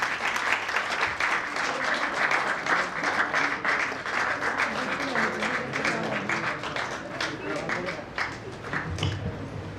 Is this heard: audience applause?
yes